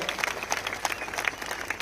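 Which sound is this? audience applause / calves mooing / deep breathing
audience applause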